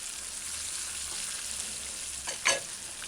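Fish pieces and peppers slow frying in oil on a stove set to medium low, a soft, steady faint sizzle with a couple of sharper crackling pops near the end, no talking.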